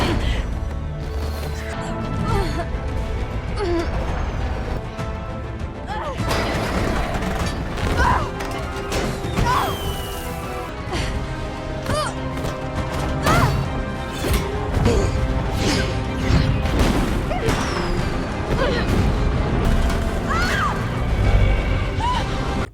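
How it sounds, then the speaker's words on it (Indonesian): Loud crashes and booming impacts of a helicopter exploding in a superhero film erupt repeatedly amid dramatic film sound, with shouting voices and debris clatter mixed in. "tiba-tiba Sims datang meledakkan helikopter tersebut"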